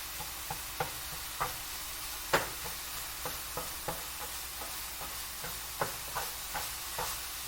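Food sizzles steadily in a pan while a utensil stirs and scrapes it around, the scrapes landing as regular soft knocks over a constant, quiet hiss.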